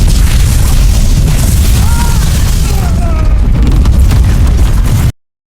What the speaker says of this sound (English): Last time we saw this explosion